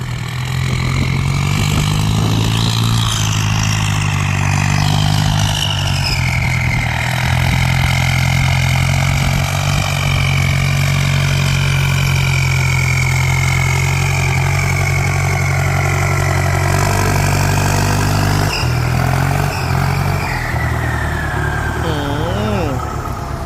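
A turbocharged Ford 5000 farm tractor engine runs steadily and loudly close by, a constant heavy diesel drone with a whining whistle above it, while people talk over it.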